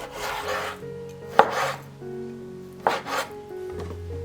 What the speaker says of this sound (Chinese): 把半斤3分肥7分瘦的猪肉先切成小块